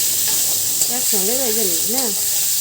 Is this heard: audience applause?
no